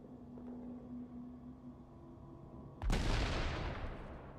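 A single sharp, loud sniper rifle shot from The Division video game cracks out and decays over a couple of seconds, following a quiet stretch of low ambient hum.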